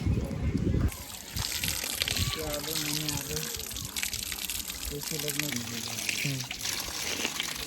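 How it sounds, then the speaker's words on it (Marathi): Water splashes and pours steadily as hands and feet are washed before entering the Mahadev temple at Dastapur, with people talking over the running water. "तर हातपाय घेतले धुवून, कारण की मंदिरात जायचं म्हणल्यावर अगोदर आपल्याला स्वच्छ हातपाय तोंड धुवूनच मध्ये जावं लागेल"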